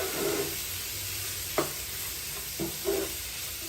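Carrots, onions, green peas and kale leaves tossed together in a frying pan, a steady sizzle broken by a few spatula clacks and scrapes, close and free of talk.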